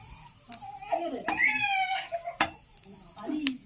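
Hot oil heating in a pan before potatoes go in for frying, with soft sizzling and a few sharp clinks and stirring noises of a utensil against the pan, fairly quiet.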